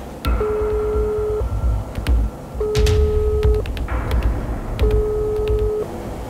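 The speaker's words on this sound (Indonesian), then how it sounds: "Saya sekarang mau mencoba dulu saudara untuk menelpon Kapolres Cirebon untuk bisa dapat informasi soal keberadaan dari Ibtu Rudiana ini." A telephone call to a police office rings out without being answered: three long, evenly spaced ringback tones with clicks between them, clear and alone with no voices.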